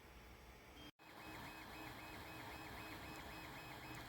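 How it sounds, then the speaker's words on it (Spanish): 3D printer printing a SolidWorks model in Cura, a faint steady mechanical whir with repeating stepper-motor tones, briefly cut to silence near the start before resuming continuously. "Ahí continúo imprimiendo"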